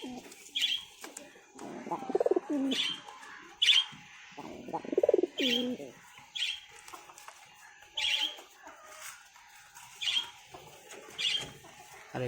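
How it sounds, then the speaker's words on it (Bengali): Hunting pigeons kept at a home coo in repeated bursts, each throaty call separated by short pauses, with a few sharper clucking notes nearby and no talking. "কারো কাছে এরকম শিকারি পায়রা আছে নাকি?"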